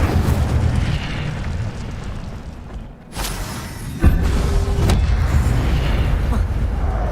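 The Incendio fire spell in Hogwarts Legacy bursts out as a loud fiery whoosh and boom, followed by a short gap and a second sharp blast with sustained roaring rumble; no speech over it.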